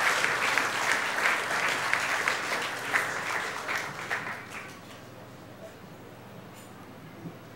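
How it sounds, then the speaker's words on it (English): A church congregation applauding during a morning service, a lively spread of many hands that stays strong for several seconds, then tapers off and fades into quiet room tone. "let's give Melissa a very rousing round of applause."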